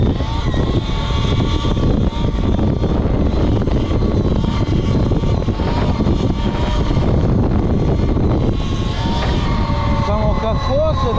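Eride Pro SR electric wheelie motorbike motor whining loudly and continuously up close, a steady high-pitched electric drone layered over rumbling road and wind noise throughout.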